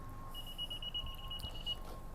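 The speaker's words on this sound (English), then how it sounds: "It keeps beeping at me because the keys are not in the car." A 2018 Honda Accord LX sounds a keyless proximity warning, a rapid string of short, thin electronic beeps lasting over a second, under a low steady hum with no talking.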